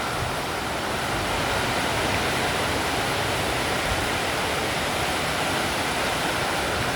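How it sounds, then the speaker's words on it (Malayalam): Heavy rain pours down steadily, a dense, even roar of water that stays loud and unbroken throughout, with no voices. "മഴ മഴ മഴ മഴ നല്ലൊരു മഴയാണ്"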